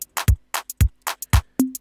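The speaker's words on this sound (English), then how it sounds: "you play the loop, it's going to sound like this." A short makossa beat loop plays from FL Studio: punchy kick drums alternating with crisp snare and hi-hat hits in a quick bouncing rhythm, ending on a ringing tonal hit.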